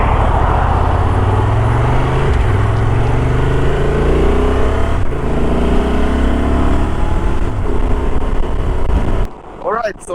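A Honda Transalp fitted with an Isotta windscreen cruises on the highway, its engine droning steadily under heavy, loud wind rush, then a brief dip near the end.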